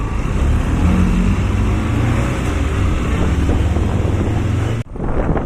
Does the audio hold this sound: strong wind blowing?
yes